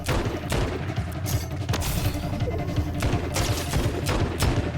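Rapid gunfire from a gun in the video game Fortnite, a dense run of sharp, loud shots in quick bursts with brief gaps, steady and close throughout.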